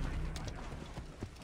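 A horse gallops across open ground in the video game Assassin's Creed Origins, its hooves thudding in a quick, steady clip-clop over a constant low rumble of game ambience, moderately close but not loud.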